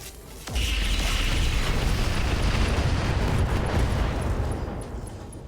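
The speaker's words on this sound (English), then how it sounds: "we're going to completely alpha strike him" Heavy mech weapons alpha strike slamming into a Phoenix mech in RogueTech: a sharp onset bursts into a sustained, loud, rumbling roar of explosions and impacts that holds for several seconds before slowly easing.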